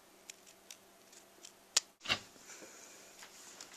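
Scissors snip through paper while a get-well card shaped like a nurse's dress is made, with two quick, close, quiet cuts in an otherwise hushed room.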